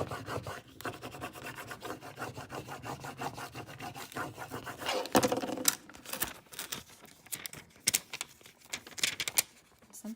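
Glitter vinyl being rubbed down onto a tumbler, a steady close scratchy rasping with quick repeated strokes, alone with no talk.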